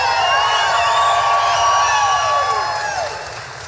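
Large outdoor political rally crowd for Trump in Sioux City, Iowa, cheering and whooping loudly in a sustained roar with shrill whistles on top, swelling and then easing off toward the end.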